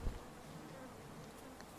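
Bees hum steadily from beehives in a small video game garden, a faint, continuous low drone with soft thumps at the start and end.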